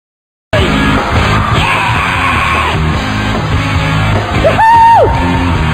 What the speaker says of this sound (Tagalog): Ang ganda-ganda ng sigaw mo